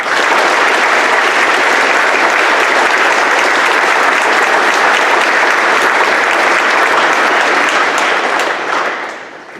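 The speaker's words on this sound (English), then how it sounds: "Ladies and gentlemen, please let us give a round of applause to Mr. Eugene Penegrin." A school assembly audience gives a sustained round of applause at a Veterans Day event, dense and loud clapping filling the hall steadily before tapering off at the end.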